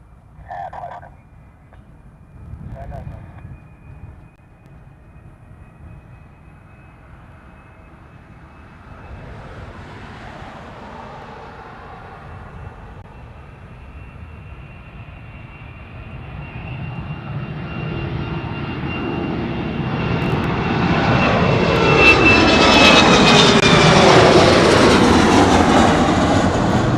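At night, an airplane approaching Honolulu airport starts faint and distant, then swells into a loud, roaring jet rush that peaks near the end.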